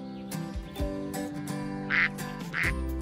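An Indian runner duck quacks repeatedly in short, loud, nasal calls at an uneven rhythm, close by, over a low background hum.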